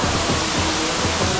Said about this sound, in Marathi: तुम्ही या बाजूला बघाल तुम्हाला हा असा छोटासा धबधबा दिसतो